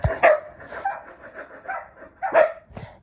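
A dog barks sharply a few times close by, short yapping bursts with brief gaps between them.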